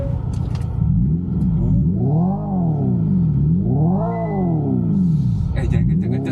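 A synthetic engine-like drone from a Hyundai Ioniq 5 N electric car's speaker rises and falls in pitch in repeated swells, loud and steady, with a few clicks near the start and end.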